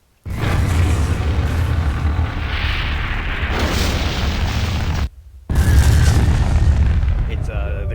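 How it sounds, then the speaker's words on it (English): Tomahawk missile explosion in Garry's Mod with the Gbombs addon, loud and sustained booming blast filling several seconds, a brief near-silent cut, then another heavy roaring burst. "It's the equivalent explosion force of a JDAM, except it's a missile."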